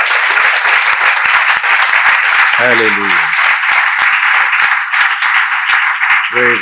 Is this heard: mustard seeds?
no